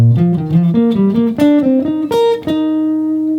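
A short melodic guitar lick of quick plucked notes that comes to rest on a sustained final root note, played clearly with no talking.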